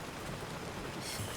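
Heavy rain pouring down outdoors in Kerala, a steady, close hiss of water striking surfaces throughout the brief moment, with no voices over it.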